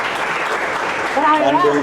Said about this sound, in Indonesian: dari tepuk tangannya kayak rame di sini